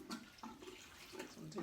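Water pours fast into a home aquarium holding tadpoles during cleaning, a steady rushing splash with brief surges, fairly faint and without talk.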